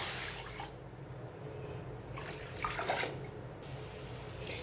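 Water pours and splashes into a pan on the stove while milk is prepared with powdered milk for a Bengali palm-fruit milk pudding, with a steady close stream and brief louder gushes.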